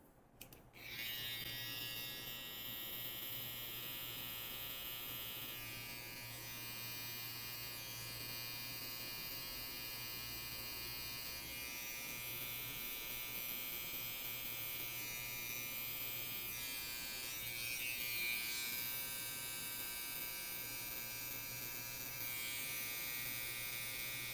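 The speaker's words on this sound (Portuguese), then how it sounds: "Então desenhe primeiro com a máquina e limpa com a lâmina depois." An electric hair clipper buzzes steadily while tracing the hairline at the temple during a short men's haircut, a close continuous motor hum with slight shifts in pitch as it moves, no talk.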